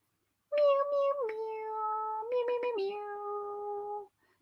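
A person imitating a cat meowing: two long, drawn-out meows in a row, sliding gently down in pitch, heard alone and close against silence.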